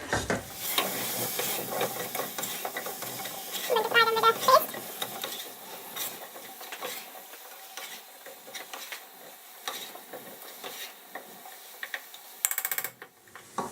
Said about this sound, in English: then I'm going to put my potatoes in for frying with the paste